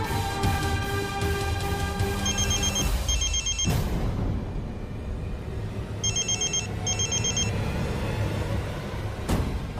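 A telephone rings in two bursts of trilling bell tones over a dramatic music score, with a sharp hit partway through, in a Hindi television serial scene.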